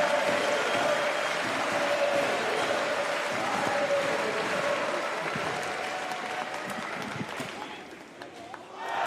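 Crowd applause at a para badminton mixed doubles SL3-SU5 gold match inside La Chapelle Arena, a dense sustained clapping from a large audience that gradually thins toward the end.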